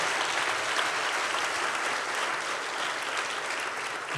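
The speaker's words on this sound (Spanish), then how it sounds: "Podemos darle fuerte ese aplauso al Señor." Applause from a church congregation during a sermon, steady dense clapping that holds at an even level for the whole stretch with no voices over it.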